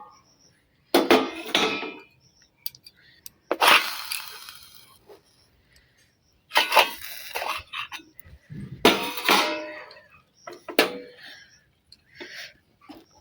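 Metal cookware clatters in bursts while chhana pora, a Bengali baked cottage cheese sweet, cooks in a pot: a lid is lifted and handled with several sharp clanks and scrapes separated by quiet gaps.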